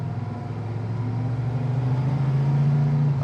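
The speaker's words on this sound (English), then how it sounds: "Really, just the engine, transmission, exhaust sound just going down the road." A 1970 Camaro Z28 cruising down the road, its engine, transmission and exhaust making a steady low drone that builds gradually in pitch and level, heard from inside without talk.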